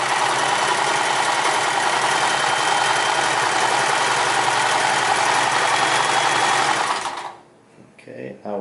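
A Sears Kenmore 158 series cam-driven sewing machine runs a 3-point zigzag stitch, a loud, steady, fast mechanical whir and rattle at close range, stopping abruptly near the end, followed by a brief faint voice.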